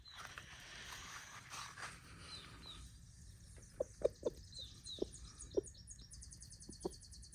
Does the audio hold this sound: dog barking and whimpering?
no